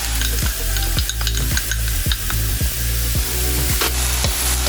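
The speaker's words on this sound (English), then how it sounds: "Next, I'm going to be adding our cooked rice in here." Cooked rice and vegetables are stir-fried in a hot pan with a loud constant sizzle, punctuated by a regular rhythm of spatula scrapes and stirs, close up with no talking.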